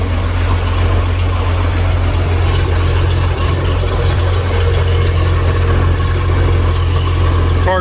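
A heavy diesel tractor engine, a big Chieftain, idles close by, a steady low rumble and throb that holds constant throughout.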